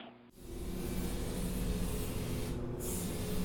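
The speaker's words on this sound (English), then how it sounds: "the floor sander" A loud, steady, broadband roar of a floor sander running continuously, with a brief dip in the higher hiss near the end.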